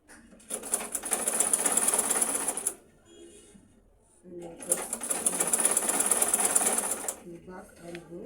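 A sewing machine runs in two quick bursts of rapid top stitching on a lace blouse, separated by a short pause with faint movement, close and clear.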